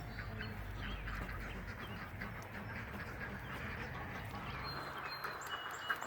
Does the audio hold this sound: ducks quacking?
yes